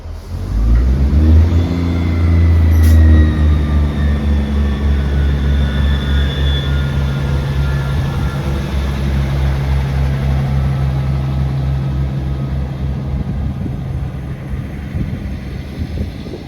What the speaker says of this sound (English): Departing again now is the 13:40 ScotRail service from Inverness to Elgin.